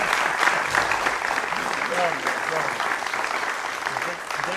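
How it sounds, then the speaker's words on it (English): Audience applause after a cello interpretation class performance, steady dense clapping from a sizeable crowd sustained for several seconds without pause. "A little applause, please."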